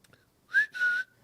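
Two short whistled notes close together, the second held slightly longer, clear and near with silence around them.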